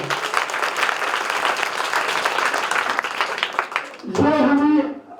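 An audience at a folk theatre workshop applauds, a dense wash of clapping that holds for about four seconds, then gives way to someone speaking into a microphone.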